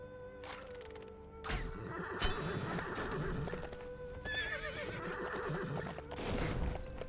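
In the Lego The Lord of the Rings video game, a horse gives a sharp whinny, then clip-clopping hooves and further neighing carry on over faint game sounds.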